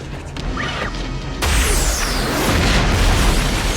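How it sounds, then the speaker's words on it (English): A missile launcher fires in a science-fiction action film, The Fifth Element: a soft whoosh, then a loud, sudden crash and boom at about a second and a half that roars on as a sustained, heavy rumble. "Is that a missile launcher?"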